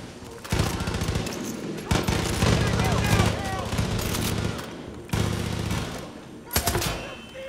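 Rapid bursts of gunfire in the video game Far Cry 5, loud and close, with automatic fire and heavy shots over background game sounds during a firefight.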